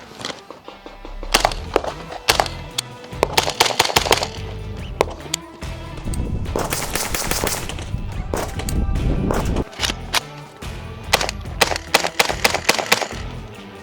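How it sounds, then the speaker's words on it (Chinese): An AR-57 rifle, an AR-style upper chambered for a small pistol-caliber round, fires a string of sharp, fairly quiet shots in bursts and singles, with broadband cracks over steady background noise at a range. "然后我们来打2枪哈，兄弟们"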